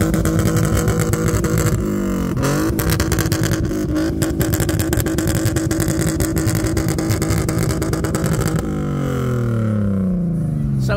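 A car converted to a 330 engine and paired with a six-speed manual gearbox idles with a steady, smooth drone. The engine is revved around the two-second mark, and the pitch shifts again near the end.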